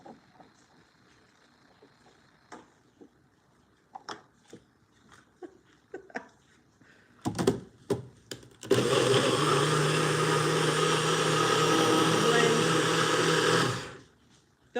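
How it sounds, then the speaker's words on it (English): After quiet kitchen clatter and some talking, a blender whirs loudly and steadily for about five seconds, blending a pumpkin protein smoothie, then stops abruptly. "All right. I'm going to blend it up."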